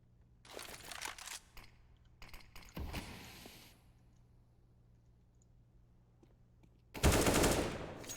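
AWP sniper rifle fire from a CS:GO match, heard as a burst of sharp clicky shots early on, then a quieter lull, and a loud broadband blast near the end.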